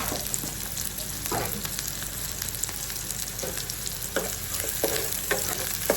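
Vegetables and onion frying in a small kadai, a steady close sizzle with occasional scraping stirs throughout, no talking.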